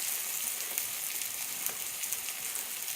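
A bean burger patty fries in olive oil in a pan, giving a steady, close, bright crackling sizzle with small pops and no talking.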